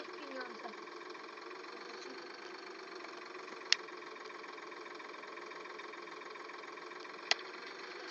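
Tractor engine idling in Farming Simulator 2013, a steady mid-pitched drone running evenly throughout with two brief sharp clicks, while people talk over it.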